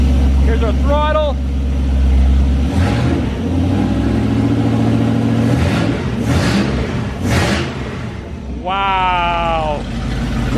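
A 440 big block V8 in a 1970 Plymouth Duster runs with a deep, rough idle and is revved, the pitch climbing and falling, while a person talks over the engine.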